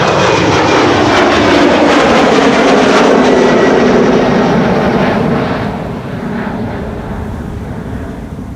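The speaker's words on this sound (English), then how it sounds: "This is an Embraer 190 on its way to London City." An Embraer 190 jet departs Amsterdam Schiphol for London City, its engines a loud, close, rushing roar that stays strong for several seconds, then eases as the aircraft moves away.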